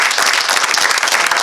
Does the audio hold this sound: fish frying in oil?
no